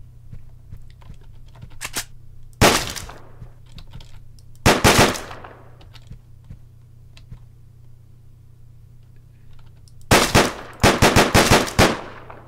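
Gunfire from the top-down shooter game Deadbolt: four loud bursts, the last a rapid string of several shots in quick succession, separated by quieter stretches of low game ambience, with no talking.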